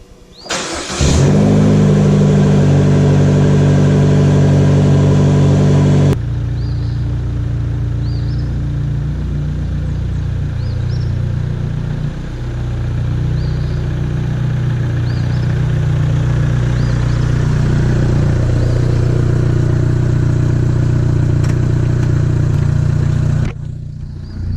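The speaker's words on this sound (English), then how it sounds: "gonna get a cold start on a 2018 Vanderhall Venice" A 2018 Vanderhall Venice cold starts with a sharp crank and catch, then holds a loud, steady high idle that steps down in pitch after several seconds and continues evenly until it cuts off.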